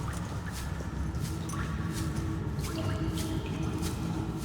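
Drinking water in the underwater survival game Subnautica gives continuous wet gulping and dripping sounds over an ambient underwater background, steady and fairly loud throughout.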